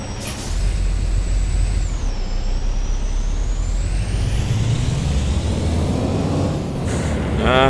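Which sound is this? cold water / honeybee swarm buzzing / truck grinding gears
truck grinding gears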